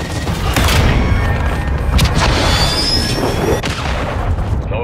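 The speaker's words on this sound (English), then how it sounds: "Cruise missile inbound." Cruise missile strike in the Modern Warfare 2 video game, a loud close barrage of booming blasts and crackling impacts rolling over several seconds with sharp bursts and a brief rumbling tail.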